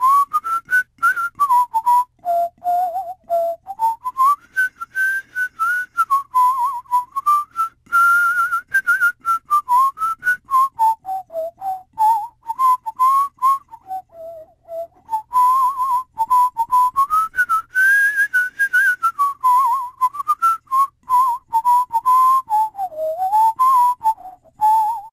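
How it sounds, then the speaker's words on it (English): A master-level whistler performs a long, clear melody alone, the tone gliding smoothly up and down in sustained phrases with short breaths between them. "He's described by IMDB as a quote-unquote master-level whistler."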